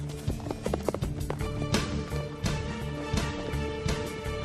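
A spooked horse gallops off after being frightened by a snake, its hooves clip-clopping steadily at a fast pace beneath a continuous layer of music, with an occasional whinny-like sound mixed in.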